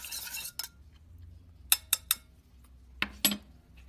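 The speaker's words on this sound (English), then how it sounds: "Get the yolk all broken up and mixed in." A utensil strikes a bowl while eggs are mixed for homemade dog treats, a few sharp clinks and taps in bursts over a quiet background, with no talk.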